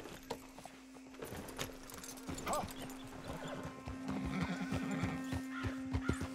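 Hooves clip-clop in a steady rhythm as a horse whinnies, with a constant low hum and faint voices in the background, in the video game Red Dead Redemption 2.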